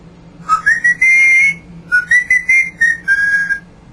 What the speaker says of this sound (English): he likes to whistle when the saints go marching